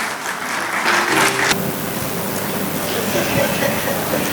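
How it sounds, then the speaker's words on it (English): Audience applause at a legal panel session of a bar association's annual law conference, a dense steady wash of clapping that holds at a fairly loud level for several seconds. "Round of applause for our panelists"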